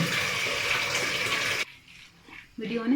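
Water running and splashing while saag greens are washed, a loud steady rush that cuts off briefly before resuming, with a voice speaking over it.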